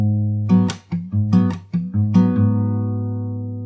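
Fingerstyle guitar runs through a chord progression at full tempo, quicker plucked chords over a ringing bass note, ending on a long sustained chord that fades, played close without any voices.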